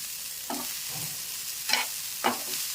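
Rice for a hotel-style tawa pulao being stirred in a pan over a high flame, giving a steady low sizzle broken by three distinct scraping strokes of the spoon.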